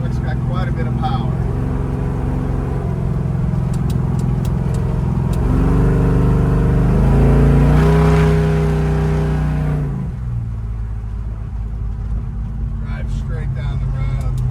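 A frame-off restored 1970 Chevrolet C10 pickup engine drones and rises in pitch as the truck accelerates down a road, then eases off. The engine is heard loud from inside the cab, with someone talking over it at times.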